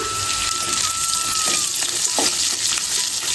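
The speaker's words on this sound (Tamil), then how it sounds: "வெங்காயமும் பச்சை மிளகாய் நல்லா வதங்கட்டும்." Steady, loud sizzling of onion and green chilli frying in hot oil, with occasional stirring clatter throughout.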